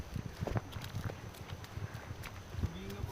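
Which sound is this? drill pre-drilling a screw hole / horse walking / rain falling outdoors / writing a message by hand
horse walking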